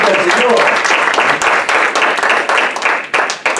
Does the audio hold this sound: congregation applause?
yes